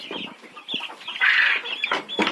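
Hens cluck close by in a busy, uneven run of short calls, with one louder, drawn-out squawk near the middle.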